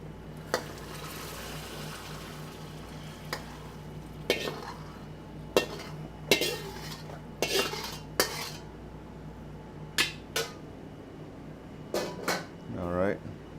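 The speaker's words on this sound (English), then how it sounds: "we're just gonna plate them right over the top of the rice" Thai noodles served over rice, with spaced clinks and scrapes of cutlery against dishes as food is plated, a dozen or so sharp taps over a quiet background hum while a person talks.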